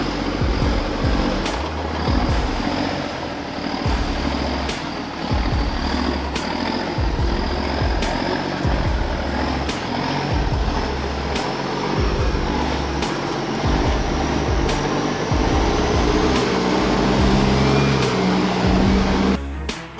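Land Rover Defender climbing a rugged, dusty 15-degree incline, a continuous loud engine roar with rhythmic thumping and rattling over rough ground, close and sustained without a break.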